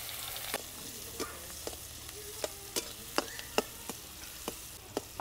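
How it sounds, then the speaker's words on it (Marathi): Onion dropped into very hot oil in a kadai for a soybean vegetable dish, with a steady sizzle and a run of sharp clicks and taps from stirring at a regular pace, close and moderately quiet, no talking. "आपण आता एक कांदा तळायला टाकून घेऊ।"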